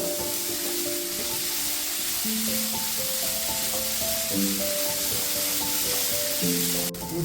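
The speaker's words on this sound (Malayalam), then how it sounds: "വെജിറ്റബിൾസ് ചേർത്ത് കൊടുത്ത് ഒരു 4 to 5 മിനിറ്റ് സോട്ട് ചെയ്തതിന് ശേഷം നമുക്കിത് മാറ്റി വെക്കാം" Mixed vegetables sauté in a pan with a constant bright sizzle and hiss, close up, while a melodic music bed plays along underneath.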